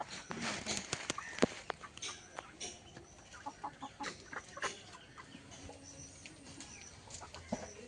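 Chickens cluck softly while feeding in a backyard coop, a scattered series of short clucks and pecking patter at moderate distance, low in level with faint background sounds.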